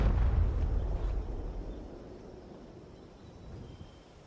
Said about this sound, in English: I join the game and something explodes immediately